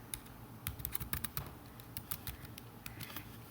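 Someone types on a computer keyboard nearby in a quiet room, a quick, irregular run of light key clicks in small clusters with short pauses between them.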